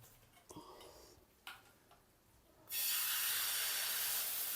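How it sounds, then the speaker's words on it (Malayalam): Dosa batter hitting a hot pan, a few faint clicks and taps of utensils at first, then a sudden loud, steady sizzling hiss that continues to the end. "ഈ ദോശയുടെ സൗണ്ട് വരണല്ലേ."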